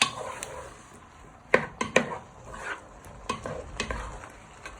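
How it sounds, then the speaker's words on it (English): Onions and chorizo sizzle softly in a pan while a utensil stirs them, giving a few sharp scrapes and clinks against the pan over a steady low frying hiss, close and fairly quiet. "you want to give that a good stir"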